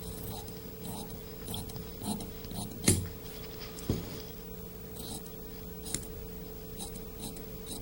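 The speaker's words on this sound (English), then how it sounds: "Clip away any excess." Scissors snip away excess fabric in a few sharp, isolated clicks at close range over a steady low hum, with no talking.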